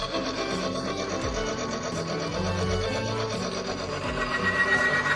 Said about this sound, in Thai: นี่คือเครื่องทดสอบการสึกหรอ เปิดเครื่องเลย แล้วใส่น้ำหนักเพิ่ม